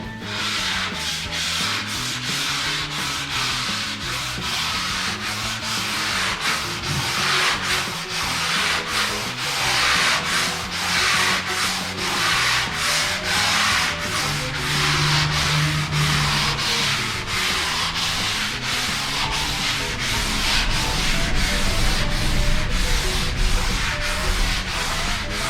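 Sanding primer on a Z28 car body with 220 grit sandpaper, steady rhythmic back-and-forth scratching strokes, loud and close, continuing without pause and with no voices.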